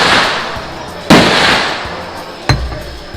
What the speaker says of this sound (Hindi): पीछे से गोलीबारी की आवाज़ आ रही होगी